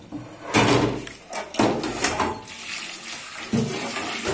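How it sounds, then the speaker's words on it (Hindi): Tap water gushes over eggs in a kitchen sink in bursts, loud and close, with splashing surges and brief pauses as the flow shifts. "अंडों को देखे इस तरह से खुले पानी के नीचे रख दे"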